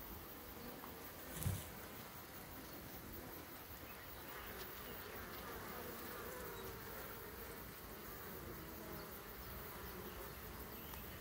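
Honeybees drone around an open beehive during an inspection, a steady close-up buzz from many insects throughout, with one brief knock early on and no talk.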